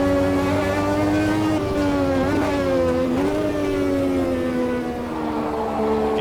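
A racing car in the Automobilista 2 simulator runs hard through corners with mid-corner understeer, its engine holding a steady, loud harmonic drone that dips and swells slightly as the revs change, with no break in the sound.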